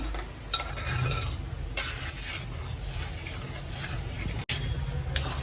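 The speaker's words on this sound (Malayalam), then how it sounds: "നന്നായിട്ട് ഇളക്കി കൊടുക്കണം അല്ലെങ്കിൽ തൈര പിരിയാൻ ചാൻസ് ഉണ്ട്" A spoon stirring thick kalan, a curd curry, in a pan, giving a steady scraping and bubbling texture with a few sharper utensil knocks, close and continuous with no talking.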